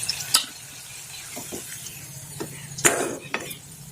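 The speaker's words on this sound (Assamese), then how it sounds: "প্ৰথমতে আলুকেইটা ফ্ৰাই কৰি লওঁ" Potatoes frying in a pan for an Assamese pork curry, a soft steady sizzle with a few sharp clinks and scrapes of stirring, close up and without talk.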